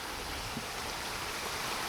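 A stream runs into a pond, giving a steady close hiss of flowing water that holds even and unbroken throughout.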